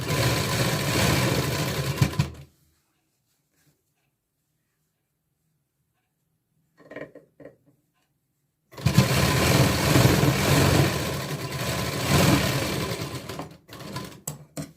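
A sewing machine stitches a katori blouse in two loud, steady whirring runs separated by a long quiet gap with a few brief clicks, close by and without talk.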